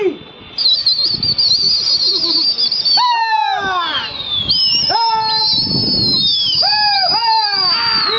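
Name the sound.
pigeons flying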